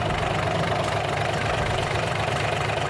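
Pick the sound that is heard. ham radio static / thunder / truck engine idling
truck engine idling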